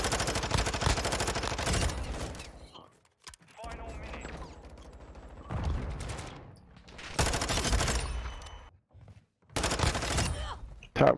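Call of Duty MW2 gunfire from a player pre-firing in a moshpit match, several loud bursts of rapid automatic fire separated by short quiet gaps, with voice chat talking between them.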